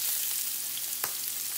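Shrimp burgers fry in hot, popping grease, giving a steady close hiss with a few sharper crackles and one brief louder pop partway through.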